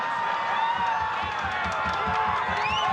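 A rowdy crowd at a Cambridge versus Oxford varsity rugby league match roars and shouts continuously at a distance, with scattered whistles and whoops under a steady murmur of voices.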